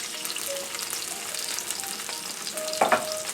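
Seasoned meat frying in a pan of very hot oil that is just about smoking, a steady close sizzle with a sharper crackling burst near the end, no voices.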